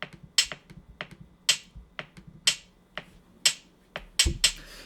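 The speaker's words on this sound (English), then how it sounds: "And here is the higher pitch drum, the snare." A looping drum pattern of crisp, snappy snare hits on a steady beat, with soft low thumps underneath and no voices.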